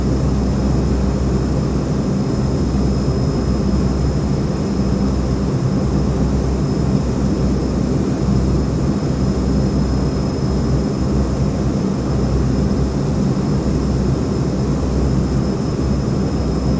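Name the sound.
Beechcraft King Air aircraft engines during low pass, from video game Microsoft Flight Simulator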